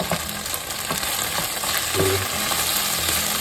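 Garlic sizzles steadily in a hot pan during a beef and bitter melon stir-fry, a continuous crackling fry with a few soft utensil taps, no talking.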